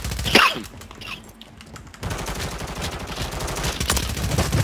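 Gunfire in the video game Call of Duty Warzone: a loud sharp shot or two, a brief lull, then a sustained stretch of rapid automatic fire.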